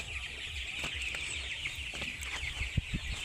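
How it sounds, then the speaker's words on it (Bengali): Sonali chickens, around fifteen days old, cluck in a poultry farm of about a thousand birds, with soft clucks over a constant high chorus of peeping from the flock and no talk. "এই মুরগির খামারটা কি আপনার?"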